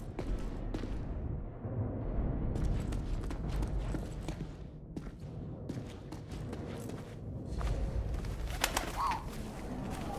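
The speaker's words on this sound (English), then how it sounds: "Without the bird distracting the German, who knows what would have happened?" A pigeon-like bird coos and calls in the video game 11-11 Memories Retold, its soft vocalizations set against a rumbling wartime ambience with occasional footsteps and clattering sounds.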